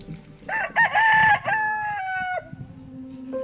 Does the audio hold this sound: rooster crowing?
yes